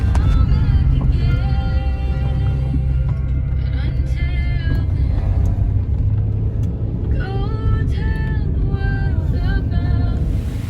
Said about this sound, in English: Then I head out in the car in my pajamas to the greenhouse.